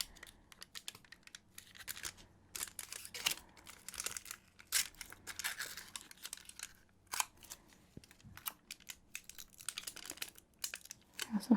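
A wrapper on a Serbian or Croatian snack bar is peeled and handled up close, making quiet crinkles, small tearing sounds and dry ticks in irregular bursts.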